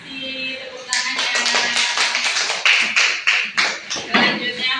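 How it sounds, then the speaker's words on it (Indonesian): Classroom of primary-school children applauding a presenting group, a burst of many hands clapping close by that starts suddenly and continues steadily, with a teacher's voice briefly audible at the start. "Tepuk tangannya."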